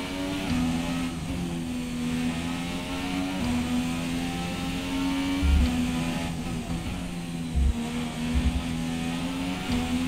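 An F1 car engine in the video game F1 2017, racing a qualifying lap at Monaco, holds a steady high whine with pitch shifts at gear changes and a few low thumps, heard alone and fairly close.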